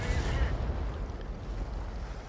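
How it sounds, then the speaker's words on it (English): In a tank video game, a heavy artillery round booms once at the start and then decays into a low rumbling tail. "So one shot in, and the G-saw's taken out."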